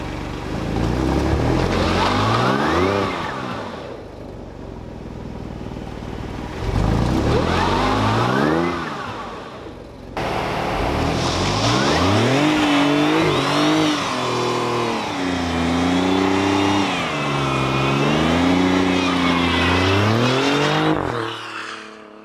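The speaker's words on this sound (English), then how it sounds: "Actually, should we do another burnout? One more for the road, literally." Alfa Romeo Giulia Quadrifoglio doing a burnout: loud engine revs in repeated bursts rise and fall, then a long sustained high-revving stretch with tyre-spinning roar, close to the microphone.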